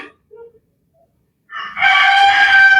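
A rooster crows loudly in the second half, a sustained harmonic cock-a-doodle-doo after a few faint short sounds and near silence.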